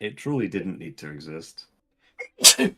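A single sharp sneeze bursts out near the end, close and loud, after a stretch of casual talk.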